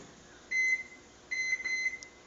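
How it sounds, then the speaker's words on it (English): A kitchen microwave oven, set to melt chocolate in a one-cup prep bowl, gives two clear bursts of high electronic beeps over a quiet background, with no talking. "when I do my chocolate in the microwave, I put it in for a minute"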